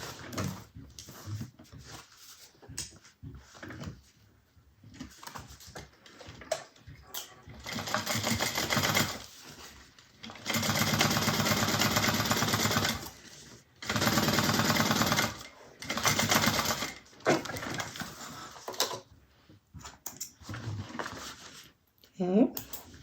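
A sewing machine top stitches a bag in several runs of rapid, steady whirring, separated by pauses with handling noises and quiet talk.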